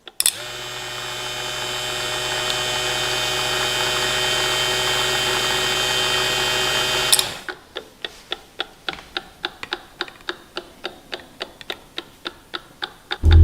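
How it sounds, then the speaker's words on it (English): A tiny drill press with a disconnected wire, fed through a relay, hums loudly and steadily for about seven seconds. It then cuts out and pulses on and off as a fast, even train of sharp clicks. "I had this tiny drill press at hand, so I didn't look any further."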